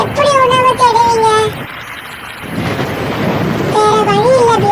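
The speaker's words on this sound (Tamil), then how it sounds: "வெளியே ரொம்ப மழை பெஞ்சிட்டு இருக்கு" Heavy cartoon rain pours with a loud rumble of thunder in the middle, while bird-like chirps and tones sound before and after the storm swell.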